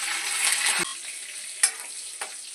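Green chillies and curry leaves crackle and sizzle loudly in hot oil for upma, a dense hiss that drops off abruptly, then softer frying with a couple of sharp utensil clicks.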